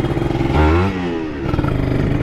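A motorcycle riding along a muddy road near the coast, its engine loud and close with a rising rev, a rough rumble and clattering underneath.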